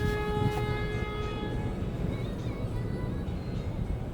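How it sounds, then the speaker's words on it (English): Car horns honk in traffic, one long, steady blare over the first second and a half, then a low road rumble with fainter honks continues. "People honking."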